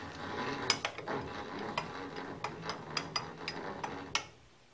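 A milling machine stop mechanism gives a series of sharp, close metallic clicks and ticks at an irregular pace over a faint mechanical background.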